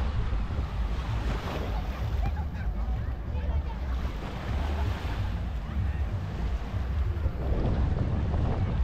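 Waves roll in at Playa Mamitas in Playa del Carmen, a continuous loud wash of surf mixed with gusting wind buffeting the microphone, swelling slightly near the end.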